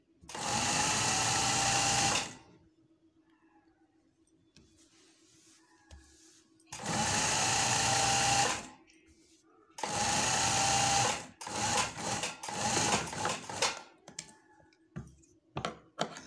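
Electric sewing machine stitching shirt sleeves at home, three loud sustained bursts of fast whirring needle action separated by pauses filled with clicks, handling and fabric shuffling.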